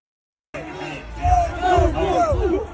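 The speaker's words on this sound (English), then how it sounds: "Auburn fan cheering on Kentucky at the top of the stadium." An Auburn fan cheers from the top of a stadium during a college football game, a loud drawn-out yell that rises after a brief silence and carries over crowd noise.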